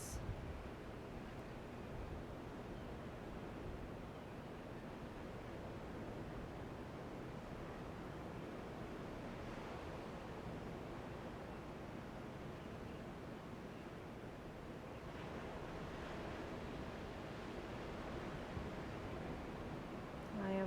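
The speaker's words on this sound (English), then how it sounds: "By the beach, so you might hear waves crashing in the distance" Ocean surf washing onto a beach, a soft, continuous rushing roar with gentle swells, heard from a distance and fairly faint, with no voices.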